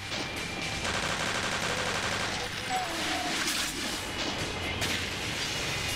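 Rapid automatic gunfire rattles from a weapon in the Brutal Doom video game, a dense continuous burst of shots layered over game music.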